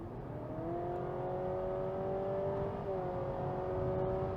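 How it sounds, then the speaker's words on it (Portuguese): Honda Civic hybrid engine revving steadily as the accelerator is pressed, a continuous rising whine-like hum heard from inside the car, with a brief pitch shift near the end and no talk over it. "o som que ele faz é justamente de um motor"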